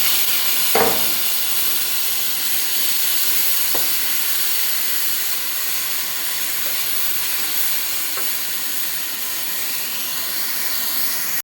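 Onion, ginger, chili and tomato frying in a pan, giving a steady broadband hiss close up for the whole stretch, with a couple of faint clicks and no talking.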